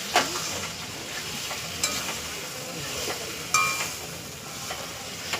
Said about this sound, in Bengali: মাংস রান্না করছি, দেখুন সবাই।